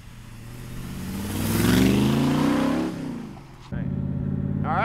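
A Factory Five 1965 Shelby Cobra replica's engine revs up loud and close, rising then dropping back, dips briefly, then settles into a steady, throaty idle.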